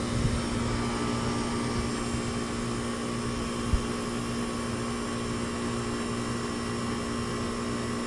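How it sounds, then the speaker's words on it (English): An air conditioner compressor runs in a steady, unbroken drone with a strong low hum and constant broadband whir, close and loud throughout, with no speech. "I can tell you that compressor is running a little better"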